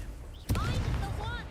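An explosive spell blasting in the Hogwarts Legacy game: a sudden sharp boom followed by a rumbling roar, with faint game effects around it.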